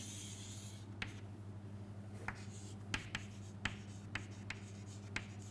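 Pen or marker moving across a board while drawing a curve in a chemistry lesson, several short scratchy strokes and taps spaced irregularly over a steady low hum, close and faint with no speech.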